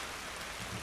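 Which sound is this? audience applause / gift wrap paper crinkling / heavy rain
heavy rain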